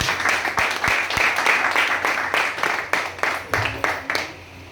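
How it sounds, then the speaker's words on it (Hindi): Applause from an audience at an ENS STAR business gathering in Amravati, Maharashtra: loud, sustained clapping close by with repeated surges, lasting the whole stretch and thinning slightly at the end. "सर के लिए जोरदार ताली हो सकते हैं"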